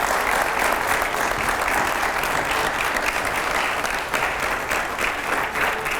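Loud, steady applause from a large studio audience during a Hindi political talk show, a dense continuous roar of clapping with no gaps that holds at full strength for the whole stretch.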